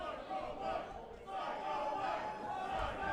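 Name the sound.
wrestling crowd chanting for a body slam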